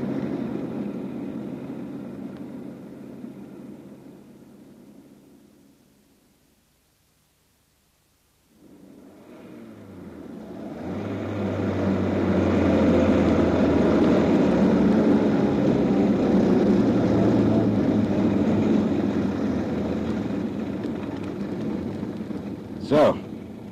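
A car engine runs in a Dutch radio drama: a low rumble fades out, then restarts and swells into a loud, steady drone, ending with a brief sharp sound.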